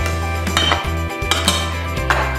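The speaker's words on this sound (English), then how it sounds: "Using a butter knife, just cut the butter and lard into the flour" A butter knife works butter and lard into flour in a mixing bowl for curried vegetable pasties, giving clear, close clinks and scrapes against the bowl in an irregular rhythm, with no one talking.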